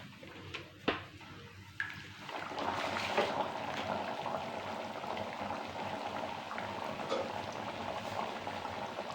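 Rounds of sweet finger millet (ragi) dough fry in hot oil on a low flame, a close, steady bubbling sizzle that swells after a couple of soft clinks and then continues evenly.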